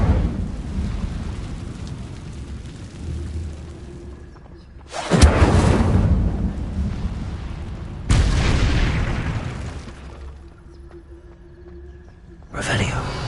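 A fire spell is cast in the game Hogwarts Legacy, producing several loud whooshing bursts that swell and fade over a steady rumbling background, with a voice speaking in between.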